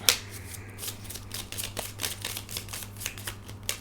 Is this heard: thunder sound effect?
no